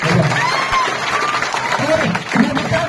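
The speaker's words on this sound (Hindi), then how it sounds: "ऐसे समाज के बेटे के लिए आप लोग जोरदार एक बार ताली।" An audience at a school ceremony applauding a teacher, a dense burst of clapping from many hands mixed with crowd noise and a voice speaking over it.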